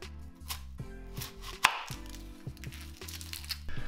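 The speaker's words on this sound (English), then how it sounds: "While the pierogies are boiling, cut up your onion." A knife chops an onion on a board for pierogi with brisk, steady, close cuts, under continuous background music.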